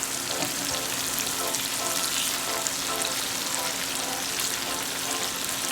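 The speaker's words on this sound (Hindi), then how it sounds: "आप देख सकते हैं मसाला फ्राई हो रहा है, तेल ऊपर आ चुका है" Korma masala with onions fries in oil in a pot, giving a dense, steady sizzle and crackle that stays loud and even throughout, with no talk.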